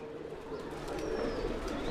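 Black Saharanpuri pigeons coo softly and continuously at close range, their low murmuring calls overlapping against a faint background hum.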